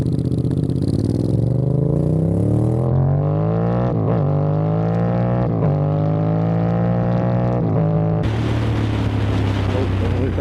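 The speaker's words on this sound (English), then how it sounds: "Right, here we go. First ride of the SP1." A Castrol Honda SP1 motorcycle pulls away and accelerates, its engine note climbing through several gear changes before a burst of wind noise near the end; loud and close.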